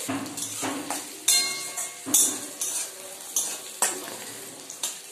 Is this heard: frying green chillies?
yes